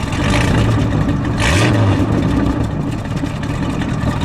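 A 1936 Cord 810 Phaeton's small engine runs loud and close, with a single short rev rising and falling near the middle and no voices over it.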